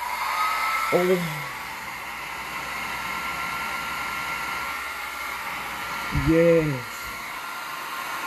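An FHI Heat hair dryer runs steadily throughout with a constant airy whoosh, while a voice speaks in two brief moments over it.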